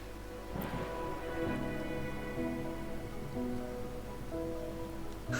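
Steady rain pours throughout a scene in the video game Wuthering Waves, a constant close hiss with soft musical tones drifting beneath it.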